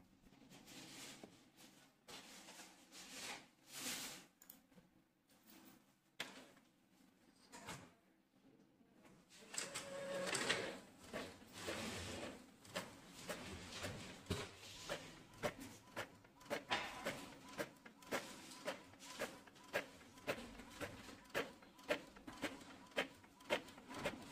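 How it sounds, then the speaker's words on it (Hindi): A printer running off an application form, with quiet mechanical whirring and sliding feed noises, then a busier stretch of rhythmic clicks and clunks as the pages pass through, fairly faint and close. "इसको मैं अभी प्रिंट कर देता हूँ"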